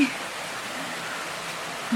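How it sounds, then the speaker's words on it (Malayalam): Steady hiss of rain falling, an even broadband wash with no talking, constant and moderately loud throughout. "മഴ തുടങ്ങി,"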